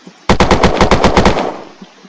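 An MG42 machine gun in the game Unturned fires a rapid burst of about ten loud, punchy shots, then its echo tails off into quiet.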